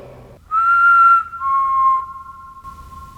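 A clear, loud whistle inside a haunted elementary school in Ohio, two sustained tones, the first slightly higher than the second, close and alone against a quiet room.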